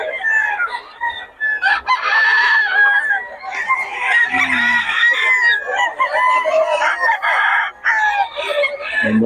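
Chickens cluck busily while a rooster crows loudly nearby, the calls overlapping almost without pause.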